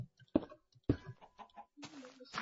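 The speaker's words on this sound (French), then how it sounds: "j'entends une poule" A Minecraft chicken clucks in short bursts, a few quick clucks spaced apart, fairly quiet and close, with faint synthetic game-like tones.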